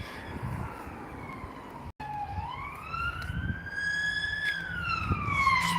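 A police car siren wails through a village during an evening walk, its tone sweeping up and down as it approaches, loud over a steady road rumble with no talking.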